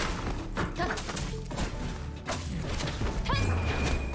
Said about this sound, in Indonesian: Hajar, meledak.